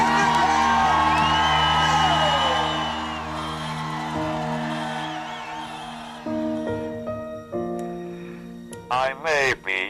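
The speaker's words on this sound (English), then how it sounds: "With the crowd there, all the excitement, the noise, and the announcers announcing all that" A loud crowd at a marathon finish line whoops and cheers, with sustained shouting and tonal calls that thin out, then a few sharp bursts of yelling near the end.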